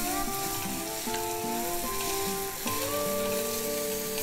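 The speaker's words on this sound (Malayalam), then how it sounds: "മുളക് പൊടിൻ്റെയും മഞ്ഞൾ പൊടിൻ്റെയും പച്ചമുളക് മാറുന്നത് വരെ ചെയ്ത് കൊടുക്കുക." Green chillies frying with chilli powder and turmeric for gooseberry pickle, a steady, dense sizzle held at even loudness throughout, with sustained musical tones running underneath.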